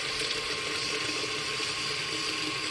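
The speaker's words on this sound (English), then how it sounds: "we're going to put some hot water on it" Hot water poured onto dry, hydrophobic potting mix, a steady faint hiss of running water without pause and no voices.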